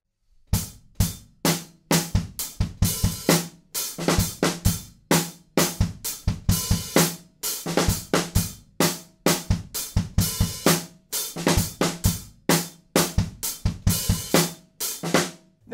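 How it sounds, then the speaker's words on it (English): Halftime drum groove from a song, a steady looping pattern of punchy kicks, snares and cymbal hits repeating evenly for about sixteen seconds, loud and close with no talking. "Then we're into this cool halftime groove"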